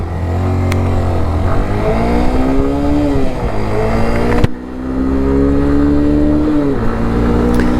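Yamaha YS125 motorcycle accelerating hard through the gears, engine note climbing toward the red line, a brief drop at a gear change, then rising again, loud and close throughout.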